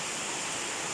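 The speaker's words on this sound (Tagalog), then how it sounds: "Lumalakas na lumalakas yung ulan." Heavy rain from a typhoon pouring down outside a house, a dense steady hiss of water filling the whole second with no letup and no voices.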